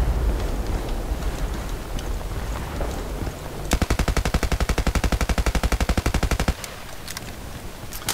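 Sustained full-auto burst of distant rifle fire from a G53 in Battlefield Play4Free, a rapid, even stream of roughly thirty shots lasting close to three seconds, rising above steady battlefield ambience with scattered far-off shots before and after.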